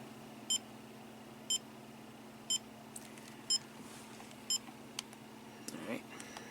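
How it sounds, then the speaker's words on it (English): Short electronic beeps from a Viltrox MC-C1 intervalometer timer remote repeat about once a second, five clear chirps at a steady rhythm over a quiet hum, followed by faint handling clicks. "you forget to turn off this beeping noise"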